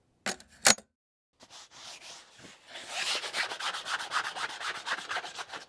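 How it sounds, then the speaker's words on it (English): Sandpaper rubbing down dried paint on a canvas, starting with a couple of sharp clicks, then a pause, then steady rapid back-and-forth scratchy strokes that grow louder and stay close and continuous. "You guys know why you sand down paint on canvases?"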